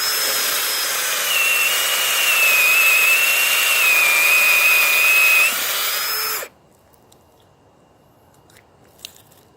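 A cordless drill whines steadily at high pitch for several seconds, its tone wavering as it bores into a tree stem, then cuts off abruptly into near silence.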